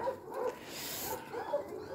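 Several dogs at a rescue in Kfarshlan, about twenty at urgent risk, make soft barks and whimpers that are faint and jumbled over a low background.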